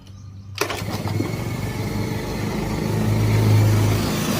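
A motorcycle engine with a flat battery starts after its air filter has been cleaned. A sharp catch is followed by a loud, steady idle whose rumble rises slightly as it settles in close, with no talk.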